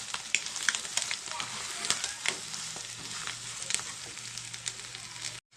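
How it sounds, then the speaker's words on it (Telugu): Cabbage, carrot, green chilli, curry leaves, cumin and coriander sizzling and frying in a pan for egg fried rice, a steady close hiss with occasional stirring scrapes, no talk. "కరివేపాకు క్యాబేజీ క్యారెట్ పచ్చిమిర్చి జీలకర్ర కొత్తిమీర కరివేపాకు ఇవి కూడా బాగా ఫ్రై అవ్వాలి"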